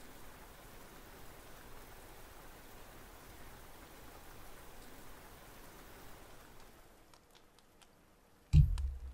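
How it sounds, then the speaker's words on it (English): Steady rain in The Legend of Heroes: Trails of Cold Steel patters softly and evenly, then thins out near the end before a sudden thump. "It's raining."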